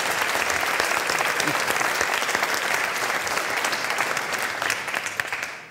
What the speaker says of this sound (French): je tiens à ce qu'on l'applaudisse tous ici pour son investissement